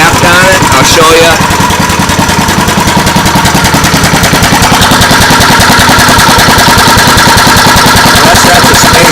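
A vintage Kohler Command Pro 8 HP small engine runs steadily at close range, with a loud, rapid, even firing chatter throughout and no talking.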